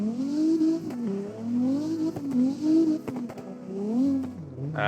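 Engine of a car on a test drive in the CarX racing game, revving up and down in repeated surges with shifting pitch, loud and close, no talk over it.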